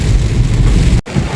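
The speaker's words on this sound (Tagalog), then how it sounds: "Kusog yung ulan." Heavy rain pounding on a car while driving, a loud dense continuous roar of drops with a low rumble, briefly cut by a sharp dropout near the end.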